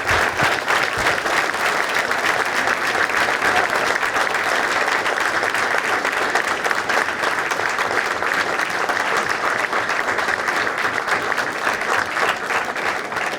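Dense, steady applause from a town meeting audience honoring town employees, continuous loud clapping from a large crowd throughout with no pauses.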